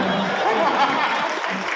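A crowd at a Hindi comic poetry gathering in Rohtak claps and murmurs, with a dense wash of applause mixed with some laughter and chatter throughout.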